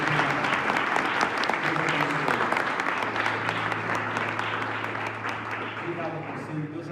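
A church congregation claps together, a loud, dense round of applause that slowly tapers, with voices and a sustained tone underneath toward the end.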